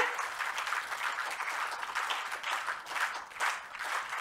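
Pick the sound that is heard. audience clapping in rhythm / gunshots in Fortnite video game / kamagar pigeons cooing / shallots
audience clapping in rhythm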